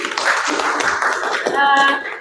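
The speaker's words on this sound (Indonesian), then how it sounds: "tepuk tangan untuk Welly" A small audience claps briefly for a presenter at a teaching session, scattered close handclaps with a voice speaking over them toward the end.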